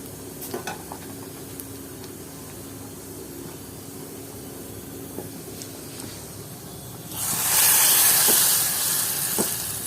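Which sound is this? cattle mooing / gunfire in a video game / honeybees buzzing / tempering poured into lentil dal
tempering poured into lentil dal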